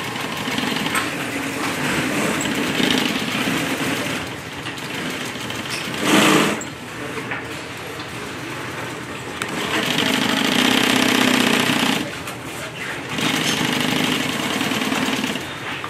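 A sewing machine stitches a grocery bag in steady whirring bursts, with a brief pause and a short louder clatter partway through, running alone without talk.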